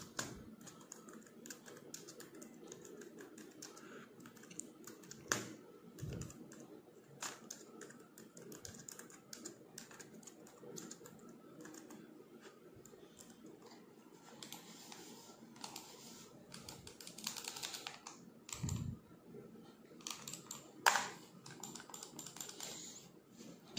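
Fingers type on a Bluetooth keyboard connected to a TECNO Spark 6 GO phone, giving quiet, rapid clicking keystrokes in irregular bursts with occasional louder taps.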